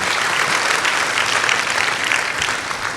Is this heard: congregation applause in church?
yes